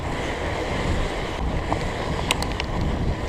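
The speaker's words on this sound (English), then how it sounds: "Alright, water crossing again, this time reverse direction." Fat bike, a Surly Moonlander, rolling through a water crossing on a wet, windy night ride, giving a steady broad rush of splashing water and wind noise with a few brief higher clinks, no talk.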